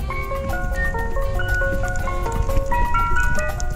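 A toy Incredibles ice cream truck plays its jingle, a bright, clear, tinkling melody of repeated notes that runs steadily from start to finish.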